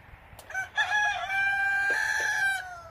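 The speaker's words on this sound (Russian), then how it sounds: "Петухи сраные." Roosters crow nearby: one loud, drawn-out cock-a-doodle-doo rises and holds for about two seconds, with a brief clucking onset and no talking over it.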